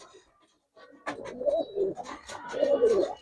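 Pigeons cooing at a loft, soft low throaty coos rising after a quiet start, close and fairly faint, with slight background rustle and no talking.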